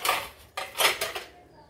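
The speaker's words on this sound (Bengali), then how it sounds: "আর দিয়ে এইভাবে তাক তাক করে বসিয়ে নেবো" Metal idli mould plates clatter as they are stacked one on another, three or four close bright clinks with short pauses, alone.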